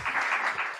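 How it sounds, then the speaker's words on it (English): A conference audience breaks into a brief round of applause, a dense burst of clapping from many hands filling the room, loud and close, fading toward the end. "we have a round of applause"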